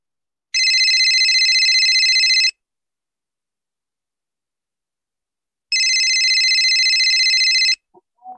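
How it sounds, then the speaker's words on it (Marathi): A mobile phone alarm rings in two bursts of a bright electronic trilling tone, each about two seconds long, separated by a few seconds of silence, loud and close with nothing else around. "ऐकूया कसा बरं आहे त्याच्या मोबाईलचा गजर."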